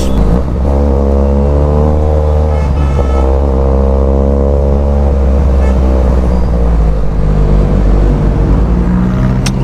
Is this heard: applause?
no